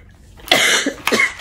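Two short, harsh coughs close to the mic, the second following about half a second after the first.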